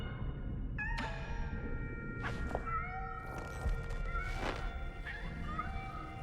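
Cats in the video game Nine Sols give a series of distinct, wailing meows at close range, spaced irregularly over a steady low mechanical rumble and a high sustained tone.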